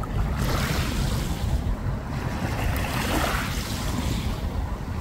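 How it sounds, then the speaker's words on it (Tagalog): Strong ocean waves surge and churn without pause, a heavy roaring wash mixed with gusting wind buffeting the microphone, loud and close. "Malakas lang kasi ang alon."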